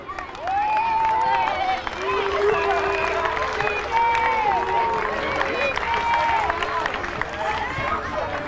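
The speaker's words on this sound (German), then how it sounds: "Und die nächste Mannschaft mit einem großen Applaus," Stadium crowd greeting the Juventus Turin team: a loud roar of clapping and cheering with babbling voices and whistles rising over it, sustained and rolling after a quiet start.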